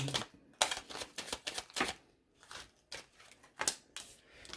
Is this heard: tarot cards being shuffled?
yes